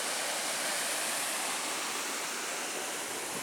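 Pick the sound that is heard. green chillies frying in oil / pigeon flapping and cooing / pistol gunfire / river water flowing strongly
river water flowing strongly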